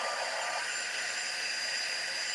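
A heat tool blows steadily and loudly without pause, a continuous airy whir drying ink on a scrapbook background.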